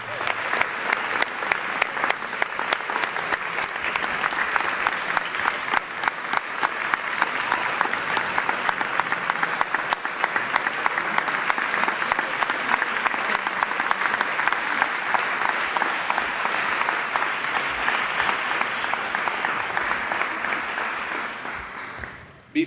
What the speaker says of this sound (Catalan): rebem-los amb un fort aplaudiment